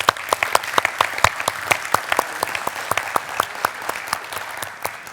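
Conference audience at a research institute's innovation day applauding steadily for young scientists, a dense sustained clapping throughout with no talk over it.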